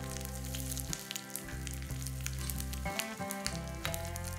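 Mustard seeds, curry leaves and a dry red chili frying in hot oil for a raita tempering, giving a steady close sizzle with small popping crackles throughout and no voices.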